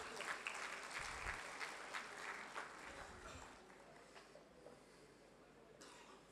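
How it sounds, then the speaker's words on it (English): A members' meet audience at an Ahmedabad branch gives a big round of applause as a guest is escorted to the dais; the dense clapping is loud at first, then gradually thins and fades. "A big round of applause for him."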